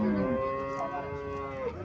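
A dairy cow of Holstein Friesian type moos loudly and close by in one long, drawn-out call with shifting pitch, heard alone.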